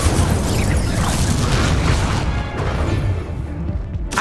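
A fiery Incendio spell cast in the Hogwarts Legacy video game, a loud broadband whoosh and crackling burst that holds steady for several seconds before thinning out near the end, with no talk over it.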